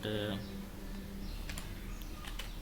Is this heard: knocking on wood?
no